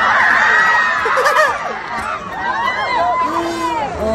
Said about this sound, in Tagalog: Sigawan mga kababayan.